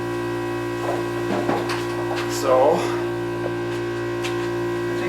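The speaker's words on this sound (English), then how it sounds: "My dust collector has to be running for this." A workshop dust collector runs with a steady low hum and drone, set up for restoring corroded aluminum car wheels, while a person talks briefly over it and a few small clatters come and go.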